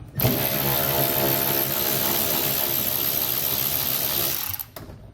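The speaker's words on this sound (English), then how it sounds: "We're going to remove all of those with an 8mm socket." A ratchet with an 8mm socket spins out bolts around the bed lip of a 2011 Dodge truck, a steady dense mechanical whir held loudly for over four seconds before cutting off.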